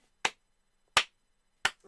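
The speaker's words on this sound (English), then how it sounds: "Slow clap." Three slow, evenly spaced hand claps, sharp and close in an otherwise silent room.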